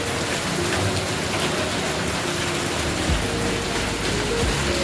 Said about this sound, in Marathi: आमच्याकडे रात्रभर असा पाऊस चालू आहे.